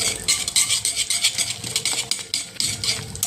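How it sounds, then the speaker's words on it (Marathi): A utensil scraping and stirring gram flour (besan) round and round in a pan, making a steady, close, fairly loud scratchy swish with rhythmic strokes and no talking. "बेसन टाकायचं आणि गोल गोल गोल गोल गोल गोल फिरवायचं."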